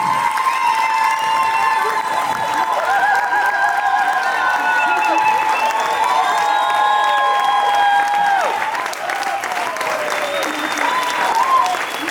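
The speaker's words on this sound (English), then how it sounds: "can we just give Tando a round of applause?" Loud, sustained applause from a theatre audience at the opening night of a book festival in Soweto, with cheering and shouts from the crowd carrying through the full stretch and voices rising above the clapping.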